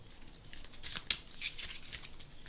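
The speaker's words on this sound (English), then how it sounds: "I want to shuffle this deck a little bit more with the Lenormand Tarot." A Lenormand tarot card deck being shuffled by hand, quiet papery riffles and slides in a few short bursts with one sharper snap, close and soft.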